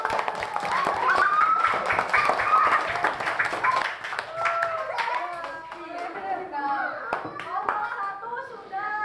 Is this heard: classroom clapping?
yes